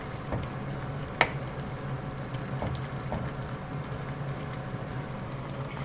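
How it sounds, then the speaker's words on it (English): A low, steady bubbling and simmering of fenugreek, potato and peas boiling in a pan, faint and continuous, with an occasional soft knock. "So this has been boiling away now for almost 3 minutes now."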